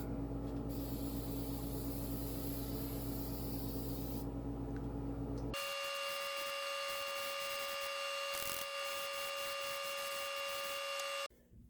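Stewmac flat lacquer sprayed from an aerosol can onto a guitar neck, a loud continuous hiss that shifts in tone midway and holds steady for about eleven seconds before stopping.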